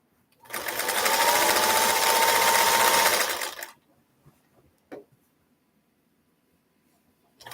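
Inside a quilt shop, a sewing machine stitches a quilt in one loud, close burst of fast whirring lasting about three seconds, then stops, leaving a few soft clicks and near silence.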